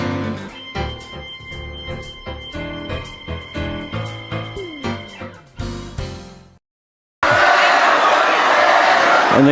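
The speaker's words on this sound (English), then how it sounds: "And the crowd chanting Edwards." A crowd at a girls' district championship basketball game between Lynnwood Royals and Glacier Peak Grizzlies chants in a steady rhythmic beat, breaks off into a short silence, then swells into a loud, dense roar.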